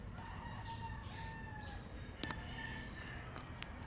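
Pet chickens and ducks in a backyard, a rooster crowing and hens clucking at a moderate distance, with scattered sharp calls and a low ambient rumble underneath.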